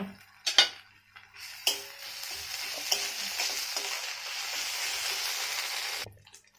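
Onions frying in a pan after green chillies, starting with a few clanks and knocks, then a steady close sizzle with stirring that runs for several seconds before cutting off.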